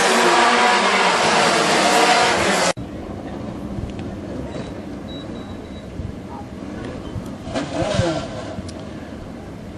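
WISSOTA Mod Four race cars run the final lap of a main event at Granite City Speedway, first as loud roaring engines that cut off abruptly, then as a quieter, more distant engine rumble with a swelling pass-by near the end.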